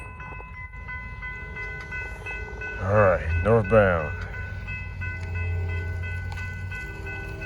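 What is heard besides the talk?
Norfolk Southern freight train passing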